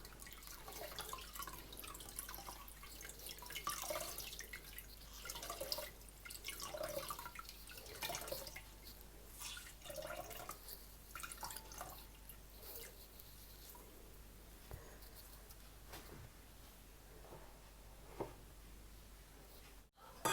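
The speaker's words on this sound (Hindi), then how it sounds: "पानी डालकर हम इसको अच्छी तरह स्ट्रेन कर लेंगे, निचोड़ लेंगे इसको" Thandai (sardai) mixture of milk and water drips and splashes as it is strained and squeezed, irregular soft droplets and trickles repeating close by over a quiet background.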